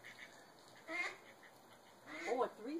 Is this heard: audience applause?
no